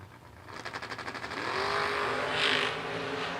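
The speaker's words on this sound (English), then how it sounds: "One of the best drag races of the weekend right there." Two drag race cars, one a Corvette, launch side by side at a drag strip, engines rapidly pulsing then surging into a loud sustained roar as they accelerate away.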